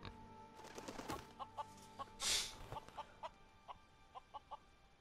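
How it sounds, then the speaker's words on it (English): Chickens cluck in short repeated bursts at a moderate distance, with a brief flutter of wings near the middle; the scene is a LEGO Marvel Avengers animated episode. "He likes chickens. Everybody likes chickens."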